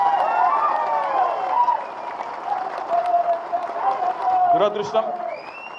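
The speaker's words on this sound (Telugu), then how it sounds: "ఈ సందర్భంగా పట్నం నరేందర్ రెడ్డి గారికి కూడా ఒకసారి గట్టిగా చప్పట్లతో వారికి మనందరం అభినందన చెప్పాలి" Audience applause for Patnam Narender Reddy at a political gathering, a crowd clapping and cheering over a loud voice, with a sharper burst of claps near the end.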